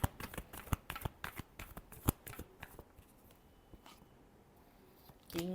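Tarot cards being shuffled by hand, a quick run of dry papery riffles and taps that thins out into quieter rustles, close and fairly soft, no talk.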